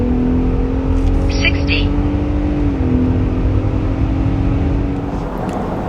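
A 2024 Ford Raptor accelerates hard in a 0 to 60 test, a loud sustained engine drone climbing in pitch and dipping briefly at a gear change, heard from inside with a person talking over it.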